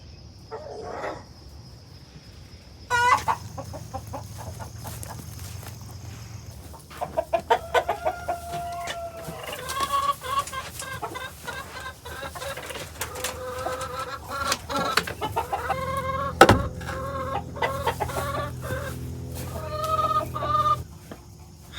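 Chickens and roosters cluck and squawk nearby in irregular bursts while roosters are chased, with flapping and scuffling between calls and a few louder startled cries.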